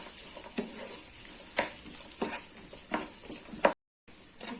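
Grated coconut roasting in a pan with softened onion and tomato for a tamarind kara kulambu masala: a low, steady hiss broken by regular scraping strokes of stirring, then a brief silence near the end.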